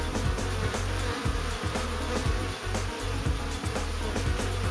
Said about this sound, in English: The bees flying in and around